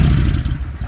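A fuel-injected Kawasaki Vulcan 900 Custom V-twin motorcycle from 2009 riding past, a loud, close, steady low engine rumble with some clatter throughout the short stretch.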